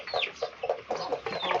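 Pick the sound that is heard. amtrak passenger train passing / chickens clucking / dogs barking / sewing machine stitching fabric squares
chickens clucking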